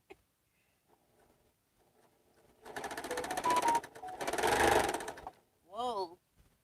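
After a near-silent start, a sewing machine stitches on a test piece in two short bursts of rapid whirring, each about a second long. A brief voice follows.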